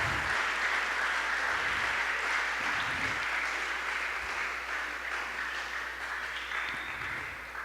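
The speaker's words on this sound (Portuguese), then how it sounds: "aplauda ao Senhor, irmão." A church congregation applauds in praise, a dense steady wash of clapping that fills the space and tapers slightly toward the end, with no voices over it.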